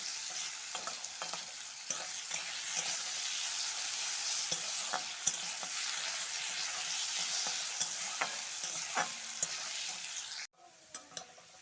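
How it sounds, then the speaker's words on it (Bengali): Diced potatoes fry in a pan for pasta, giving a steady, dense sizzle with occasional stirring clicks until a brief cut near the end. "এবার আমি আলু কোটা লাল লাল করে একটু ফ্রাই করে ভেজে নেবো"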